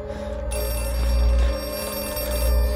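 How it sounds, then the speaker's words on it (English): Telephone ringing inside the horror video game Outlast 2, a steady electronic ring holding for nearly three seconds over a low droning game ambience, fairly loud and with no voices. "there's the phone"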